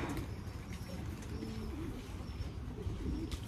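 Racing pigeons coo in low, rolling bursts, soft and nearby, over a steady background rumble.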